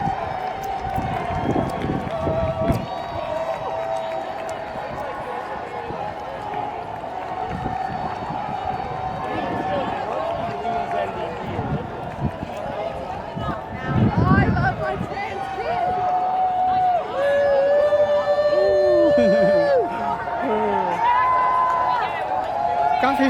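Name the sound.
crowd hooting at Toronto trans march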